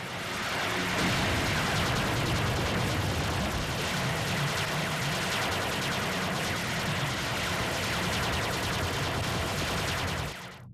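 Battleship cannons open fire in an anime space battle, a dense and loud sustained barrage of booming blasts and roaring energy that fills the scene for about ten seconds before cutting off abruptly.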